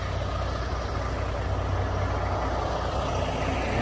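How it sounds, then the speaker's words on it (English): A pickup truck's engine runs close by in a truck shop, a steady low rumble that holds without a break and with no voices over it. "Gotta move the pickup truck out of the way."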